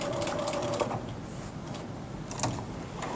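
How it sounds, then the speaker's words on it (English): Sewing machine back stitching around a piece of Velcro on a cord keeper, a faint steady mechanical whirr with a few light clicks and taps, quiet and close, no speech. "Remember, as you get to the end, you're going to back stitch."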